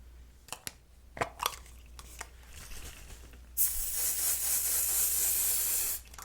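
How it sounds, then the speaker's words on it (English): Garnier Fructis Full Control hairspray hisses onto hair in one steady, close spray lasting a couple of seconds, preceded by scattered light clicks and handling taps of the can. "I'm just going to use this Garnier Patrice Full Control hairspray."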